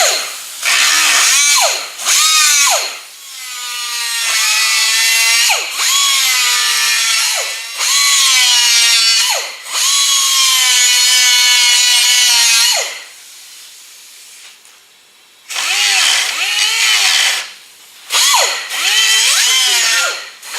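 Power tool grinding through boat-style gel coat into fiberglass during collision repair on a 1933 Ford Coupe, a loud, close, high whine running in long passes that ease off briefly, with a longer pause before two more short runs.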